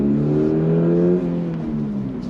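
A Toyota GR86 engine revs while driving, its pitch climbing steadily, then easing after a gear change and rising again, loud and close with no talking over it.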